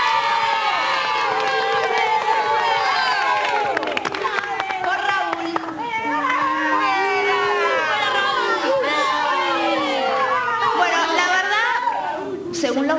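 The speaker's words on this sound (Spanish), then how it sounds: "la votación va a ser por aplausos" Children shout, cheer and clap in a loud crowd to vote for a cake, their excited yelling rising and falling under overlapping chatter across the whole stretch.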